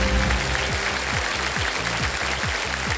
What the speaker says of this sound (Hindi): सबसे पहले जो ताली बजी वो उधर से बजी है